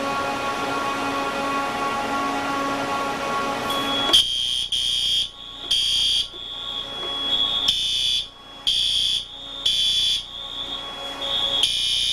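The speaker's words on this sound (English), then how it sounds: "That's the first detector, and that was the first alarm." A server room fire suppression system alarm sounds, first as a steady tone, then as loud, regular electronic beeps pulsing on and off in a repeating pattern.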